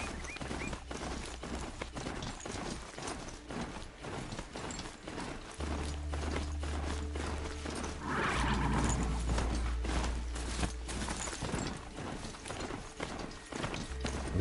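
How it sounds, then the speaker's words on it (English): Horse hooves clip-clopping at a steady walking pace in Horizon Zero Dawn, with a low mechanical rumble and game ambience behind them, no voices. "I'm just like Gandalf, riding a horse upstairs."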